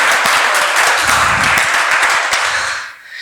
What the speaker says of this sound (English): which I would like you to invite now to applaud the people from WordCamp Vienna